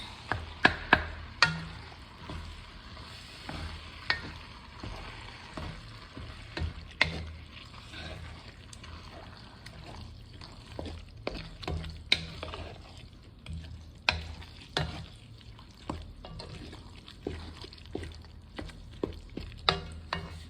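Breakfast burrito filling being stirred and mixed in a bowl or pan, irregular scraping and clacking strokes of a utensil, some in quick bursts, with low sizzling between them.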